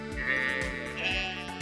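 Sheep bleating in the farming video game Stardew Valley, a few repeated game-sound bleats over a steady stacked tone, no talking.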